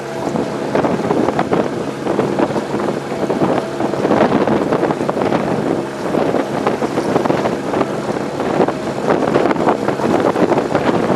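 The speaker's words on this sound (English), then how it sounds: "The wind is driving me nuts." Wind buffets the microphone during a boat ride, gusting in uneven rumbling bursts over the continuous wash of water and hull noise.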